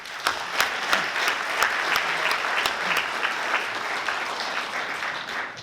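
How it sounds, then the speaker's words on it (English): An audience applauding at a race opening ceremony held in a hotel building, a steady wash of many hands clapping at moderate distance, sustained for several seconds without talk. "So applause for the club and the guys."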